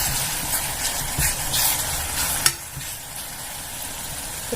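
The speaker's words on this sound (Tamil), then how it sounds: "சிம்மர்லேயே வச்சு நல்லா வணக்கிக்கோங்க" A tomato rice gravy fries slowly on a low simmer, giving a steady soft sizzle and hiss with occasional light stirring, one sharp click partway through, then a quieter even bubbling.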